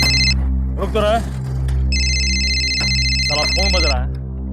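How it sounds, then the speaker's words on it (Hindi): A phone rings with a steady electronic tone in two long bursts, under a constant low hum, while a person talks in between. "फोन बज रहा है।"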